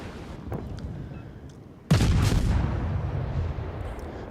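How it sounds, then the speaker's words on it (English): Naval gunfire from the German Tier 4 destroyer V-170 in World of Warships, a sharp loud blast followed by a rumbling tail, preceded by faint distant shots, with no speech. "we can carry on just firing away. Decent little 4-second reload time on these guns."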